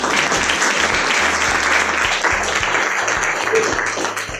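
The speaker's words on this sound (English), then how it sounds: "So let's give Paul a round of applause for coming." An audience gives a guest speaker a round of applause, loud continuous clapping lasting about four seconds, with a steady low thumping underneath and some murmured voices.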